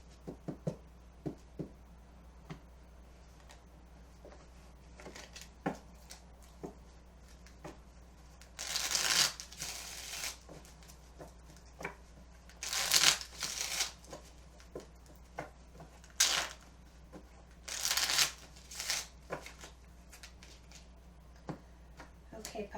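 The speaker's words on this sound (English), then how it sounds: "then I'll shuffle the next deck." A deck of cards is shuffled repeatedly by hand during a tarot reading, with several bursts of quick riffling flutter separated by soft taps and handling noises in a quiet room.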